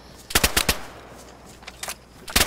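Gunfire in the survival game DayZ: a quick burst of three sharp, loud shots, then two fainter, more distant cracks and one more loud shot at the end, with no talking.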